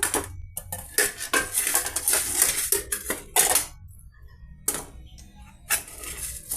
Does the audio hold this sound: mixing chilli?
yes